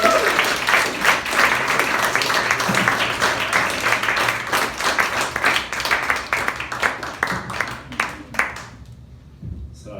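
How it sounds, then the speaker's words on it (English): Sustained applause and clapping from a comedy club audience in a brewery comedy room, dense and steady for most of the stretch before thinning out near the end. "Another round of applause for Casey and Rebecca."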